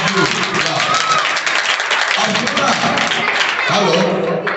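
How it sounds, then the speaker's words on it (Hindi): A class of children clap their hands together in steady applause, a dense, continuous patter that holds for several seconds while voices talk over it. "वेरी फाइन, ताली बजाओ।"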